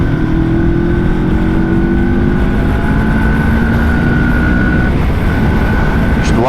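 Motorcycle with electronic throttle pulling hard under acceleration, a loud steady engine drone with rising tonal whine as it revs through the gear, close and continuous with heavy wind rush.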